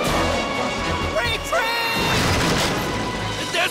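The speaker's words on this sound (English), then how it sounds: "Fire the missiles!" Cartoon missiles fire in a Johnny Test scene, with loud crashing bursts and whistling streaks layered over a dense, noisy backdrop.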